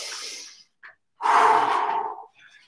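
A deep breath drawn in during a cardio and stretching workout, preceded by a shorter exhale, then one strong, close, airy inhalation lasting about a second, alone without talk.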